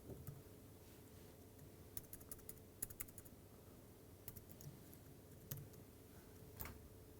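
Computer keyboard typing, a faint, irregular patter of light key clicks over a low steady room hum, with no speech.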